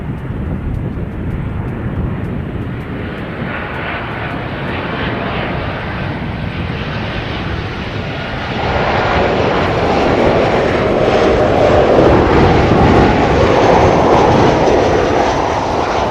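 A Qantas airliner on flight 191 from Sydney roars steadily overhead, its engine noise building louder and broader over time with no talking.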